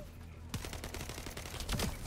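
Rapid video game gunfire firing poison bullets, a dense crackling rattle of shots throughout, fairly quiet and mixed with other game sounds.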